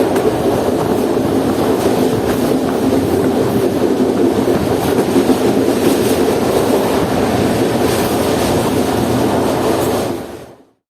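The Shah Hussain Express rolling along the line toward Bahawalpur, heard from inside an AC sleeper cabin as a loud, steady rumble with faint clickety-clack of wheels on rail joints, continuous for about ten seconds before cutting off abruptly.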